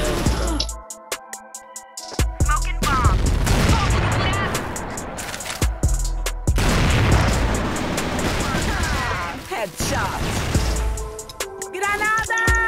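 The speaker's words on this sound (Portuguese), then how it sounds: "Granada!" Gunfire and explosions in the shooter CrossFire, including a grenade blast, with loud bursts and booms in an uneven rhythm and players talking over the action.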